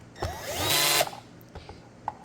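A power drill drives screws into the plastic case of an EverStart MAXX 1200A jumper pack, giving one loud rising whine of under a second that cuts off sharply, followed by a few faint clicks and taps.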